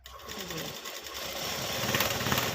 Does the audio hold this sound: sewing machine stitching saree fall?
yes